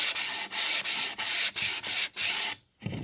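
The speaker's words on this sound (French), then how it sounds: "Et le fait de les poncer permet justement que ça soit beaucoup plus doux." Hand sanding the sides of a wooden piece to smooth away roughness: seven loud, even rasping strokes in a steady back-and-forth rhythm, close up, then a brief pause and the start of another stroke.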